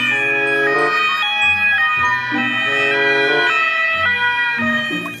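An electronic toy ambulance siren plays a looping melodic wail, steady and close, with no talking.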